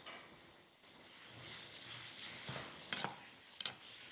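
Cooked toor dal with chopped onion, green chilli and coriander is stirred in a pot, making a soft, steady sizzling swish, with a few brighter scrapes of the spoon near the end.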